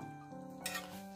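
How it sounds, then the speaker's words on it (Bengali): A utensil stirs food in a frying pan, making a brief, faint scrape against the metal over a soft background hum. "দাঁড়া একটু দুই একবার নেড়ে দিই"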